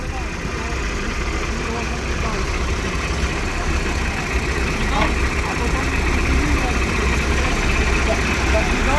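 Tractor engines idling in a field during a ploughing break, a steady loud low rumble and vibration continuing without pause, with no voices.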